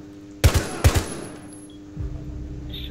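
Gunshots in Rainbow Six Siege: two sharp, close bursts of rapid fire about half a second apart, then a softer low thud and quiet ambience.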